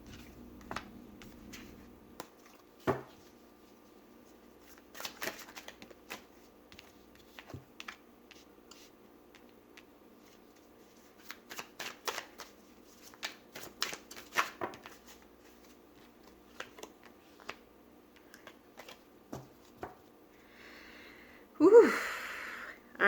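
Tarot cards shuffled and drawn up close, with short riffling bursts and quiet taps scattered across a quiet room, ending in a louder exhaled sigh.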